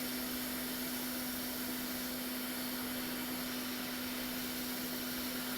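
A hot air rework tool blows continuously near a circuit board during a board repair, a steady airy hiss with a constant tonal hum, close and unchanging, with no talking.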